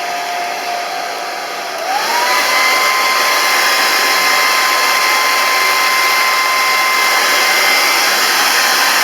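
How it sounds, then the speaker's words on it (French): A hair dryer blows steadily and loudly on a damp vacuum cleaner filter, its motor tone rising slightly as it ramps up after the first two seconds, then holding a continuous whooshing drone with no talk. "C'est de prendre le sèche-cheveux et lui mettre un coup de séchoir."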